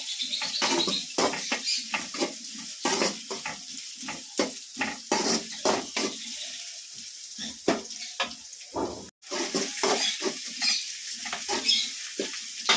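Curry leaves and onion are tempered in hot oil in a pan for a jackfruit seed dish: a soft steady sizzle under quick, rhythmic scraping and clicking stirs.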